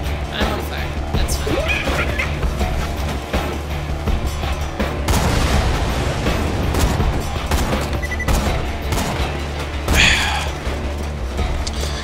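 Borderlands 2 video game gunfire: rapid bursts of shots and crashing impacts with grenade explosions, continuous and loud across the whole stretch, while players talk over the action.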